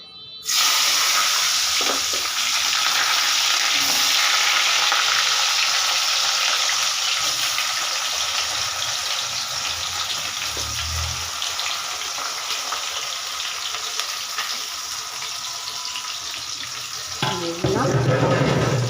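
Onion paste, ground with ginger, garlic and green chili, hits hot oil with a sudden loud sizzle that keeps frying steadily and evenly, with a little utensil clatter near the end.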